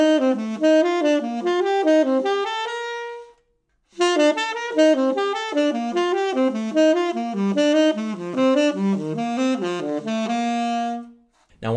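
Jazz arpeggio exercise built from the fifth (5-3-7-1) played on a melodic instrument: two phrases of clear, evenly spaced rising and falling notes, separated by a brief pause, with no talking.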